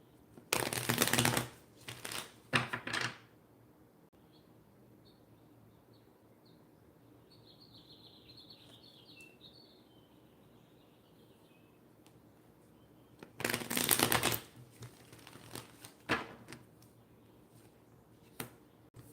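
Tarot cards shuffle in two loud riffling bursts, one at the start and one near the end, with a long quiet stretch between them that holds faint chirps.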